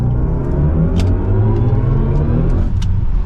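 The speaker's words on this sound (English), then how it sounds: "now switching back to sport mode, we can give it another acceleration" A 2023 BMW iX M60 electric SUV accelerates hard in sport mode, a loud, close synthetic drive hum and rumble that swells steadily and rises in pitch, heard from inside the cabin with no talking.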